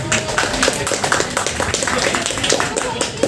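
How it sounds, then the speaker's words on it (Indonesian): Audience at a literary community discussion event applauds, a dense run of many hands clapping with audible individual claps, moderately loud and steady throughout, with some voices mixed in. "Tepuk tangan untuk kita semua."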